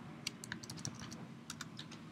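Computer keyboard typing in short clusters of sharp, close key taps, with a brief pause mid-way and a low steady hum beneath.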